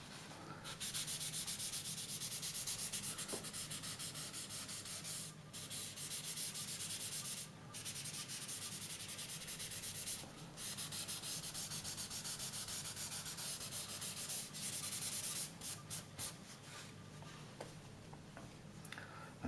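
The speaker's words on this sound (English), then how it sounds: "now I'll just sort of blend those in a little bit" Pencil blending across a mountain drawing on paper, a steady close rubbing and sanding texture that runs almost without pause, with a few brief gaps.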